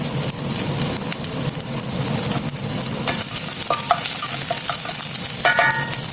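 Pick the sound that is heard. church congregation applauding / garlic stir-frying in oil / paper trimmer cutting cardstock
garlic stir-frying in oil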